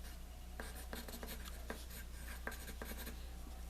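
A pencil drawing a cartoon character on paper: quiet, close scratchy strokes in short irregular bursts, with no talking and a low steady hum underneath.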